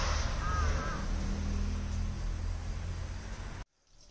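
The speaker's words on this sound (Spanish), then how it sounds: "Dos cuervos tenían una una pelea de matrimonio." Crows caw in the mountains, a few harsh calls early on over a loud steady hum of crickets and insects, before the sound cuts off abruptly.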